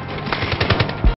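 Rapid automatic gunfire from squad members in a Medal of Honor war video game, a dense run of close, loud bursts ending in a heavier final blast before cutting off abruptly.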